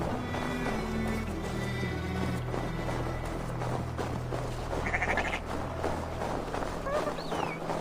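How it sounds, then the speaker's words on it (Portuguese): Sheep bleating in Assassin's Creed Valhalla, a few short bleats above a steady game soundscape of low drone and ambient clutter, with horse-like clip-clop and animal sounds mixed in. "E as ovelhas vêm prontinhas pro abate."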